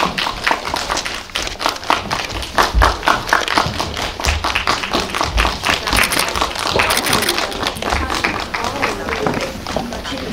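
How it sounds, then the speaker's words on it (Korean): Audience at a Korean film screening with a post-screening talk gives a long round of dense, steady clapping that runs the full length, close and loud, with a little speech mixed in. "큰 박수로 맞아주세요."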